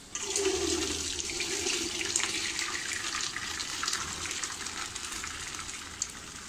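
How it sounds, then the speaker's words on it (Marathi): Par-cooked rice and its hot water are tipped into a colander while making prawn biryani, producing a continuous close gushing and splashing of draining water with no talk. "हा जो भात आहे शिजलेला मी एका चाळणीत काढून घेते"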